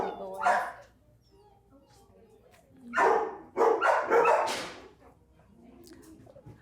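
A dog at an adoption shelter makes short whimpers and yips in several bursts, close by and mixed in with a person talking.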